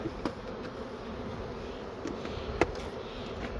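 Honey bees buzz around an open hive in a steady, dense drone, with a few sharper clicks and taps rising out of the hum at close range.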